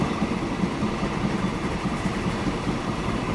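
A train on a mountain railway in Transport Fever 2 rumbles steadily with a continuous, loud low engine drone and no talk over it.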